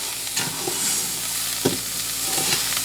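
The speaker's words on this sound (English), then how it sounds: "Now I'm just going to stand and stir" Mexican rice fries in a pan under steady stirring, with a constant close sizzle broken by a few scraping spoon strokes against the pan.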